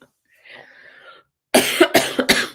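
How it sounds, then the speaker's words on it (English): A faint murmur gives way to three sharp, loud coughs in quick succession, close to the listener. "thank you for bearing with me as I do some coughing and some sniffing"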